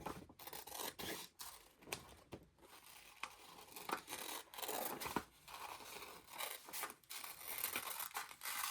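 Scissors snip through paper cut from a magazine-style print for junk journaling, a steady run of close, crisp cuts and paper rustling, with no voice.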